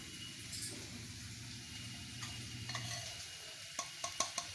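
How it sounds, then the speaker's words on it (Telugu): A spoon stirs softened chopped onions with turmeric in a pan while they cook gently. There is a steady low scraping and sizzle, and a few sharp ticks and taps near the end. "పసుపు వేస్తాం కదా, తిప్పుదాం."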